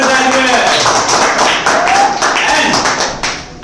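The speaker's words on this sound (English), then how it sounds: "Let's clap for all of them!" A classroom audience claps for show-and-tell participants at a school public speaking activity, with steady, dense applause filling the room and voices talking over it throughout.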